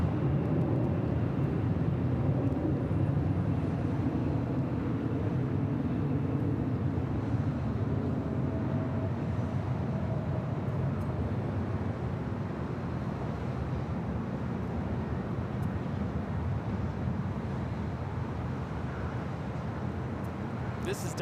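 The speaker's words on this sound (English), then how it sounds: "This is Delta Airlines 413 taking off to Minneapolis on the A321." A Delta Airlines A321 takes off from LAX runway 24 left, a broad, loud, sustained jet roar heard from a distance over the whole stretch, with people talking throughout.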